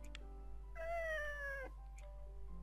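A cat meows once in the Nights of Azure video game, a clear drawn-out falling mew lasting under a second, heard alone over a low steady background hum.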